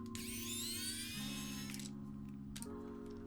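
A small electric screwdriver whines steadily as screws come out of an Astro A50 X headset during disassembly, its pitch dropping in a couple of steps, close and fairly quiet.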